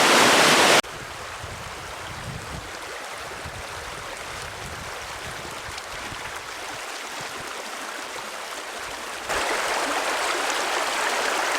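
Linn House water, a river stream, flows in a steady broadband rush close by, with a brief louder burst at the start and the sound swelling again near the end.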